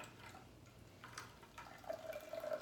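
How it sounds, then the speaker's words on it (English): Homemade hemp milk dripping and trickling into a bowl as it is squeezed out, a faint, close, uneven patter of liquid over quiet background. "So now I'm just gonna squeeze this and get all of the milk to come through"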